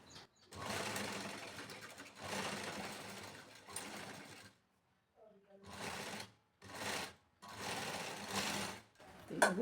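Sewing machine stitching a lining blouse, running in several separate bursts of steady whirring with short pauses between them, close and fairly quiet.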